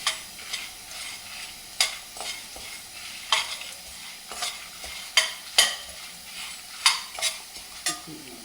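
Lentils dry-roasting in a pan until golden, stirred with sharp scraping strokes every second or so over a faint steady sizzle, close by with no voices.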